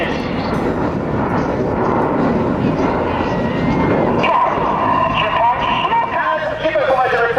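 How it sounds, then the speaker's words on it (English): Red Arrows jets performing a display manoeuvre at the Kent Airshow in Margate, a sustained loud engine roar with a rising whine, while a commentator talks over it on a public address system. "Red 6 rolling inverted at 300 feet, Red 789 flying close formation around him as he flies a negative G barrel roll"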